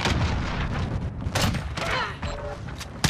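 Gunfire in Modern Warfare, Road to Damascus mission, with a teammate being shot: dense, loud bursts of shots and booms crowd the whole stretch, layered over game noise and brief voice chatter.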